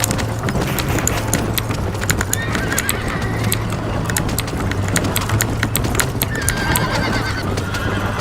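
Rapid hoofbeats pound steadily throughout while a horse whinnies repeatedly, loud and close, with no talking, in the video game Red Dead Redemption.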